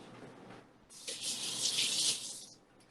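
A kitchen tap runs while green onion is washed under it, a hissing stream of water that starts abruptly after a quiet moment, holds steady for about a second, then cuts off.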